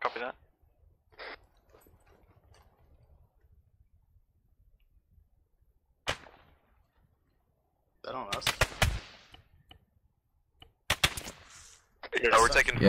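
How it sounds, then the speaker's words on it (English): Bursts of automatic gunfire in ARMA 3 begin with an isolated shot, then come as loud, sharp, rapid volleys in several clusters, with talk over a radio in between. "we're taking fire here"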